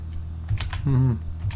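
A few light computer keyboard clicks come as a Control+I shortcut is pressed, with a soft, brief voiced tone between the keystrokes.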